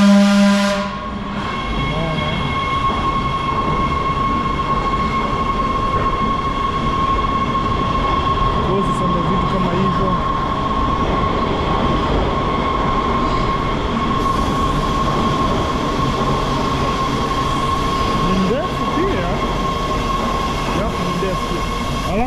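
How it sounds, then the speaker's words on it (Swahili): A commuter train pulls into the Union Station platform with a continuous rumble of wheels on rails, a sustained high squeal and a brief whistle-like tone, heard from the platform at moderate distance, fairly loud and unbroken. "kuna train hapa ndio inafika"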